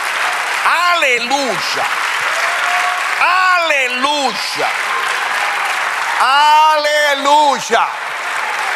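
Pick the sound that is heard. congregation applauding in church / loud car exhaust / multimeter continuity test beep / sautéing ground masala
congregation applauding in church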